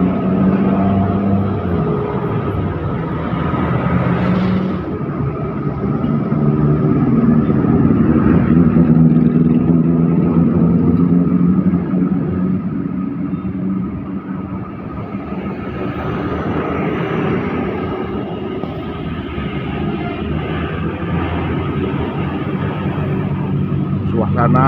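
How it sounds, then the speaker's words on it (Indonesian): Street traffic waits and moves at the Soka red light in Magelang, Indonesia. Car and motorbike engines make a steady, low rumble that swells now and then as vehicles pass nearby, with faint voices in the mix. "Karena lalu lintas Magelang seperti ini."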